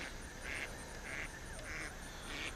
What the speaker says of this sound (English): Sorry about the duck noise.